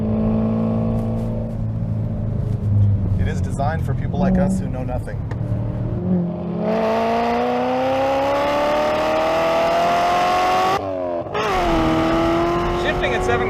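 Car engine revving and climbing steadily in pitch as the car accelerates through gears, loud and close, with a brief drop near a shift before rising again, under continuous excited talk from occupants.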